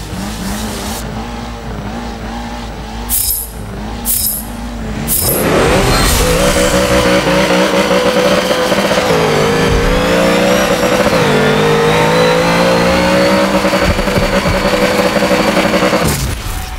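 A Dodge Dart races in a video game, its engine droning loud and steady, revving and shifting pitch throughout with brief tyre squeal, after a few seconds of quieter idling at the start.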